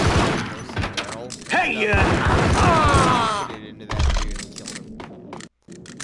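A grenade blast and bursts of gunfire in the Max Payne video game crash out in loud, busy waves, with a voice talking over part of it.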